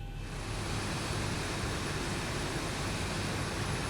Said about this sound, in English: we'll go ahead and start engine number 1.